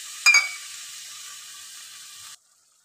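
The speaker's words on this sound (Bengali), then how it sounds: "আমি একটুখানি এই মশলার জল যেহেতু আছে এটা একটু দিয়ে দেব।" Spiced water poured into a hot pan of shrimp cooked with mustard and coconut paste gives a sharp splash and then a steady, close sizzling hiss that cuts off after about two seconds.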